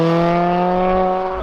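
A modified Subaru Impreza WRX STI pulls away, its engine a loud, close, steady drone with a faint rise in pitch across a short stretch and no talk over it.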